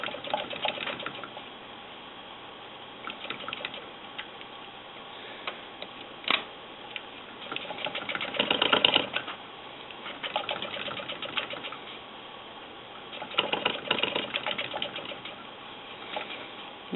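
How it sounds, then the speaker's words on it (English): A Willcox & Gibbs sewing machine stitches quilt pieces, its quiet, steady mechanical whir running throughout with faint ticking, swelling into louder bursts of sewing partway through and again near the end. "I'm going to go ahead and sew it."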